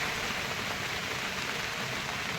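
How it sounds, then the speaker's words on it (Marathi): Steady rain falls in an even hiss, heard from inside a car in the Konkan region, constant and moderately soft, with no talking and no breaks. "पाऊस पडतोय मी गाडीत बसलो आहे"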